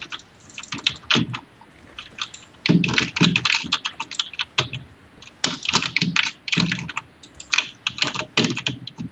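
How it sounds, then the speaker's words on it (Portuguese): Rapid bursts of computer keyboard typing close to a gaming microphone, crisp clustered keystrokes in uneven runs with short pauses between them and no talking. "Eu consigo ouvir mais o teclado do Zeplay do que a voz dele."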